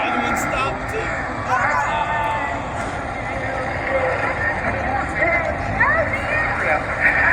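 410 sprint cars roar around Beckley Motor Speedway on the final lap of a feature race, a continuous loud engine drone with rising and falling pitches as cars pass, beneath a track announcer's commentary and crowd noise.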